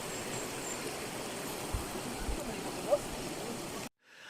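Steady broadband rushing of a flowing river stream close by, continuous for several seconds before cutting off abruptly.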